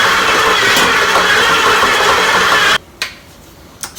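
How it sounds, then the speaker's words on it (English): Stand mixer with a dough hook kneading bread dough for Easter bread, a steady loud whirring motor hum that cuts off abruptly near the end, followed by a few faint clicks. "So now I'm going to let the mixer knead the dough for"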